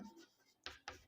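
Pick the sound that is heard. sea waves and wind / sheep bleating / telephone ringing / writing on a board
writing on a board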